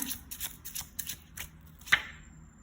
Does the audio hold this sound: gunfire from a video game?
no